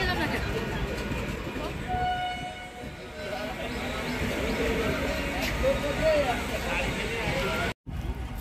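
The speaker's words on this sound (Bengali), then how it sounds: "10টা 7-এর ট্রেন ছেড়ে দিল, আর ট্রেনটা এখন এই মুহূর্তে যাচ্ছে, দেখতেই পাচ্ছ।" A train pulls out of Santipur station beside a market, with a steady rumble of wheels and wagons over the whole stretch and voices mixed into the noise.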